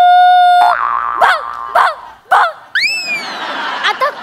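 A man mimics a happy dog's barking with his voice on a comedy stage show: a held whistle-like tone, then a run of short yelping barks and a rising squeal, close and loud.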